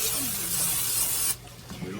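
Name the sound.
spraying olive oil cooking spray into a bowl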